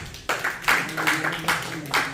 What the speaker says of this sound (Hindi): अपने लिए जोरदार तालियां बजा दीजिए